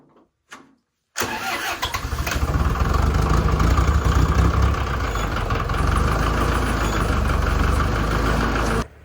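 A vehicle engine on a snowy day starts after a short crank, then idles loudly and steadily with a low rumble for about seven seconds before cutting off abruptly.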